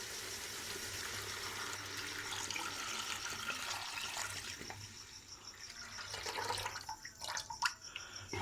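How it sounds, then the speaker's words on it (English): Roughly a liter of water poured into a cooking pot of chickpeas and chicken, a steady splashing rush that fades and breaks into irregular trickles and clanks toward the end. "We are adding now inside 1 liter water."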